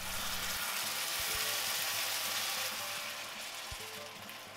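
Onions, garlic and tomatoes fry in a pan for a pizza sauce, giving a steady, dense, close sizzle throughout with a few small knocks underneath and no talking.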